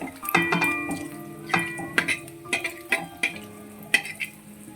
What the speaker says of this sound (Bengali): আমি তেজপাতা ফোড়ন দিয়ে দিলাম গোটা গরম মশলা ফোড়ন দিয়ে দিলাম আর শুকনো লঙ্কা ফোড়ন দিয়ে দিলাম একটু ভাজা হয়ে যাক